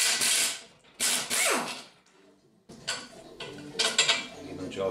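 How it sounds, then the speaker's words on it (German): A wrench working a self-locking nut on the rear axle shock absorber of an Opel Manta, with close metallic ratcheting, clanks and scraping in several loud bursts separated by short pauses. "Gut, ich beginne also jetzt einmal, dass ich die Stoßdämpfer abnehme. Dazu mache ich die Mutter auf."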